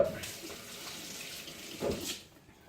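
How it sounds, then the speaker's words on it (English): Water runs from a kitchen sink tap in a steady hiss with a brief surge near the end, heard alone without speech. "so my water's boiling over here"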